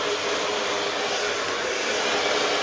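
A hair dryer blows on medium heat, a steady close whooshing roar of airflow that holds unchanged throughout with no talk.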